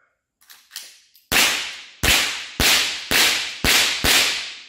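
Lever-action rifle fires five loud shots in a steady rhythm about 0.7 seconds apart, each a sharp crack with a decaying tail, preceded by faint metallic lever clicks; no talking.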